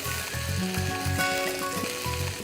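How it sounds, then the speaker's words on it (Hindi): Vegetables roast in a pan for vegetable korma, a close, steady sizzle that fills the short stretch, with no one talking. "हल्का सा इसे और भून लीजिए।"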